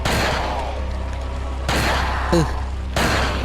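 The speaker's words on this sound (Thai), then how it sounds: "อ่ะเรายิงเราต้องยิงที่ตาตรงนี้นะครับแล้วเขาจะเปิดเปิดตรงนี้ขึ้นมา" Bursts of gunfire aimed at the giant tree boss's eye in Resident Evil 4, loud volleys at the start, midway and near the end with a brief high metallic ping between them.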